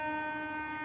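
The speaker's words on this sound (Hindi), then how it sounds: "Chhattisgarh express departure Muzaffarnagar" Chhattisgarh Express (18238) departing Muzaffarnagar station with a sustained, loud multi-tone horn blast, steady and unbroken over a low rumble.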